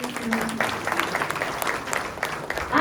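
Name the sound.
audience applause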